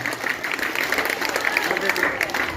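An audience claps at a school convocation in Samastipur, a dense wash of steady applause from a crowd, fairly loud and continuous throughout.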